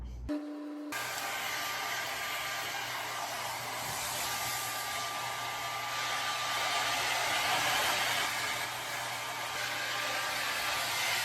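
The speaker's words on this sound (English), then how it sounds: "I still have to dry my hair and then I'm still going to dye it" Hair dryer blowing on wet hair, switching on after a brief moment then running as a steady loud whooshing whine, close and continuous, with no talk.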